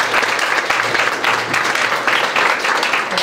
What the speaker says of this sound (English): Let's just go ahead and give her a round of applause.